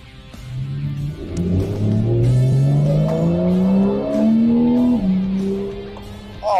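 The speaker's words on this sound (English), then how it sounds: "I'll do a little bit of a takeoff just so you can really get to grips with how quick this classy little Porsche 911 really is" A Porsche 911 Carrera S (991.1) accelerating hard from a takeoff, its engine note climbing loudly through the revs, dropping briefly at a gear change and then rising again, close and alone.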